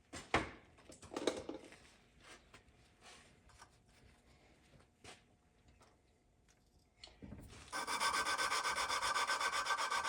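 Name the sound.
hand lapping an engine valve seat with compound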